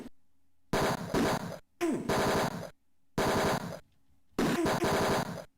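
Bursts of machine-gun fire in the retro detective video game Tex Murphy: Mean Streets arrive as four separate rapid streams, each about a second long, separated by silence. The shots are loud, harsh and crunchy.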